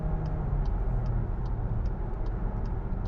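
A Skoda Kodiaq 1.5 eTSI engine revs under acceleration, a steady low droning hum of the engine and road noise heard from inside the cabin, continuous and moderately loud with faint regular ticking, no talking.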